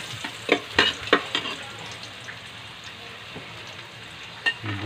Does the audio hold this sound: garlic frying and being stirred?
yes